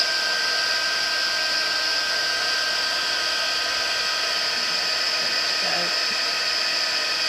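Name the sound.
embossing heat tool blowing hot air onto powder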